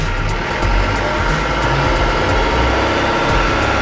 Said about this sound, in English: if you can hear the motors revved up